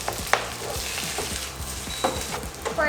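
Chicken inasal frying in a pan outdoors, with a loud, steady close sizzle and crackle of hot oil, broken by a few sharp clinks and stirring scrapes.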